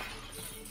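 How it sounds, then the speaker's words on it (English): Glass shattering in the VR shooter game Gunman Trials 2, a brief bright crash of breaking pane with a scattered glittery tail, fairly quiet and heard alone without speech. "Guess I just walked through the glass."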